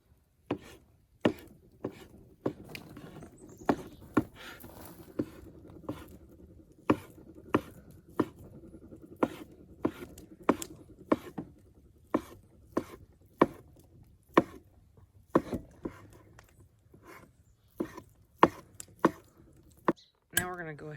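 A knife chops crab meat for crab cakes outdoors, sharp irregular thuds on a board spread over the clip, with faint background sound and a voice talking underneath.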